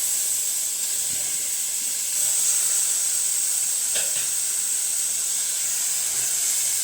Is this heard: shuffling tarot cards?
no